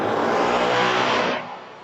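An automobile engine runs loud and close with a broad roaring rush, holding steady and then dropping away during the last half second.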